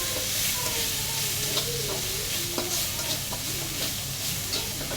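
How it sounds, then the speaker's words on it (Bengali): Salt, turmeric, chili, panch phoron and garam masala fry in a pan for a beef tongue and potato dish, giving a steady loud sizzle with scraping stirring strokes throughout and no talking. "স্বাদ মতো লবণ, হলুদ, মরিচ, পাঁচফোড়ন, গরম মশলা পাউডার সব কিছু একসাথে দিয়ে ভালো করে ভাজা ভাজা করে"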